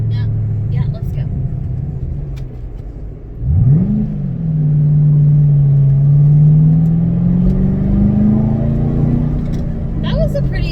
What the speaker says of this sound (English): That was a pretty aggressive throttle around a turn that I'm not familiar with